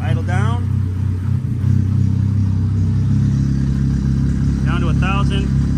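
A newly installed Chevy engine settles to idle with a steady low rumble, while someone talks over it for most of the stretch.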